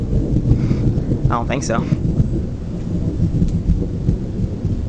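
Thunder rolls through a Florida lightning storm as a continuous low rumble over rain, with a short spoken phrase partway through.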